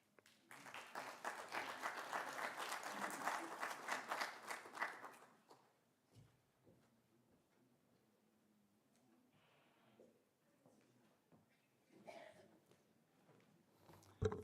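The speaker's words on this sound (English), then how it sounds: "Let's give him another round of applause." Applause from the audience follows a presentation at an AI conference, a dense burst of clapping lasting about five seconds before tapering off into a faint, quiet room with scattered small noises.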